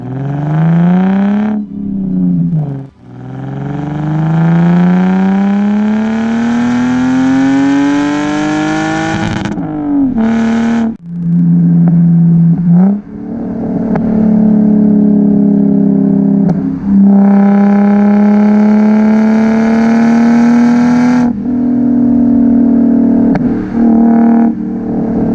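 Modified 2005 Lexus IS300 with a stainless steel catback exhaust, revving and accelerating through several gears in a loud, sustained engine note with brief dips at each shift, close and clear with no talking.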